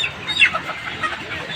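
Chickens clucking at a poultry shop, a short burst of nearby squawks and clucks over low background noise.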